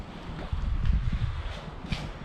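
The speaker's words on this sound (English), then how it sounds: "It's windy, but it's always windy by this by the River Humber." Wind blows beside the River Humber at an old dock, a steady low rumble buffeting the microphone with a few stronger gusts and no talking.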